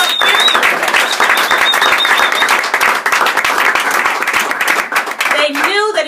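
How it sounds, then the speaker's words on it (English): Audience at a scholarship reception breaks into loud, dense applause that holds steady, with a few cheers and voices rising near the end. "And you need to clap on that"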